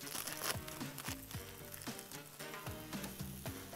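A chicken burger patty sizzles on a hot restaurant griddle, a steady crackling fry that carries on beneath background music.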